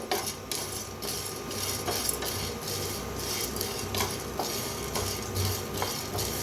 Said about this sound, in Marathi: आपण तर पहिलं हरभऱ्याची डाळ घातली बघा हलवत असं भाजून घेऊया